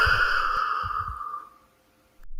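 A patient breathing deeply during a doctor's stethoscope check, one long audible exhale fading out, then a brief pause and the start of another breath.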